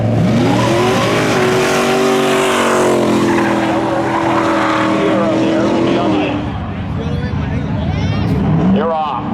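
A Chevy Malibu wagon and a Pontiac Fiero launch in a spectator drag race at Seekonk Speedway, with loud engine roar and brief tire squeal under an announcer's steady commentary, the noise receding near the end.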